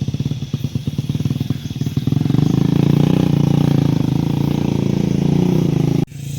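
A motorcycle engine runs loud and close, its engine damaged after the chain came off on a steep climb. Rapid clattering firing pulses build into a steady drone, then cut off abruptly near the end.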